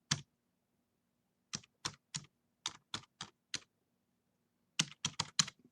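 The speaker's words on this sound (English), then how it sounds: "then I'm going to type in my domain name" Keys clacking on a computer keyboard as a web domain name is entered, close and clean: a single tap, a burst of about eight keystrokes, a pause, then a quick final flurry of several presses in otherwise quiet surroundings.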